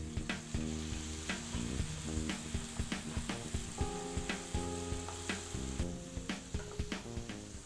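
Garlic paste stir-frying in a street-style wok for Schezwan veg fried rice: a loud, continuous sizzle broken by a regular rhythm of sharp metal spatula scrapes and clanks, close up with no talking.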